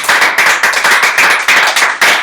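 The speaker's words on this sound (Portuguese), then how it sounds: "Uma salva de palmas" A few people at a small church group meeting clap together, loud, close and sharp, in a quick rhythmic run of about a dozen strokes with no talking.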